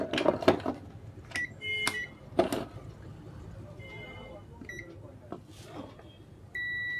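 A multimeter set to buzzer range beeps in short bursts during a Sony car stereo repair, with sharp tonal beeps of varying length scattered between clicks and handling noise, close by and fairly loud.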